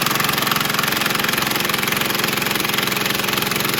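A Ryobi R18IW3 cordless impact driver drives a screw with no pilot hole, giving a loud, steady, rapid hammering rattle that runs unbroken for about four seconds with no talk.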